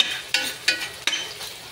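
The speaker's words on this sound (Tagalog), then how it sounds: "ginisa ko muna yung sibuyas," Onion and garlic sauté in a little oil in a pan, giving a steady close sizzle broken by three or four sharp scraping stirs of a utensil.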